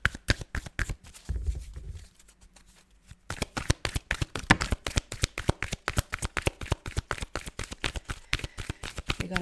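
Tarot cards shuffled by hand in a long run of rapid, crisp riffling bursts, briefly pausing midway before the brisk shuffling resumes close and steady.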